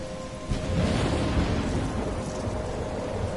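A loud thunderstorm with heavy rain from the video game Life is Strange, a rumbling roar of thunder swelling in half a second in and continuing over steady, dense rainfall with no voices.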